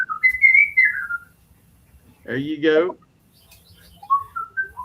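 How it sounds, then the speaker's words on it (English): A person whistles short tuneful phrases, a gliding note at the start and another near the end, with a brief spoken interjection in between, close and clear in a quiet room. "wants to hear some whistling during your little muskrat love whistle"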